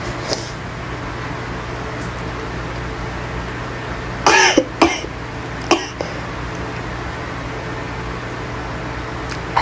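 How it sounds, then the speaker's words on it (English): A person in a bathroom gives a few close, harsh coughs and throat clears in a short burst midway, over a steady fan-like hum, with no talking. "Sorry about my coughing though."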